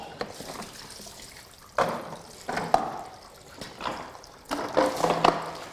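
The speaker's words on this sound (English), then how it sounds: "We have a lot of water coming out of this hose area here." Water drains out of the hose of a full Craftsman wet/dry vac into a red container, quiet splashing and trickling in irregular bursts with a few louder gushes.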